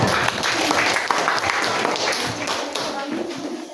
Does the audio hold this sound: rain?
no